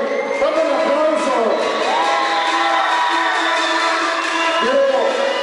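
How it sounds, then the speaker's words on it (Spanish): Crowd at a Fiestas Patrias queen pageant final in Tecamachalco applauds and cheers the three candidates, with steady, loud crowd noise and whoops throughout, and voices rising above it. "Un aplauso para las tres candidatas"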